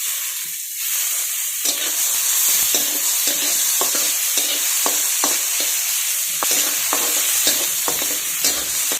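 Onion and tomato sauté loudly in a pan for a dry cluster-bean (gavar) curry, with steady frying sizzle under repeated scrapes of a spoon. There is no talking.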